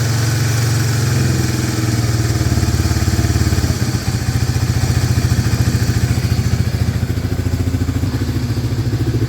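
A 1995 Honda Fourtrax 300 ATV engine, after sitting for 15 years, runs at a steady lumpy idle with rhythmic thumping pulses and mechanical clatter, loud and close.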